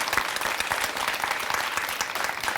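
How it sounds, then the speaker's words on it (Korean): A talk-show audience breaks into loud, sustained applause. Dense individual claps patter evenly throughout, with no speech over them. "우리 모두에게 박수를 보낼까요?"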